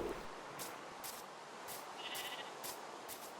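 A Minecraft sheep bleats once, softly, partway through. It plays against quiet game ambience, with faint, regular scuffing steps.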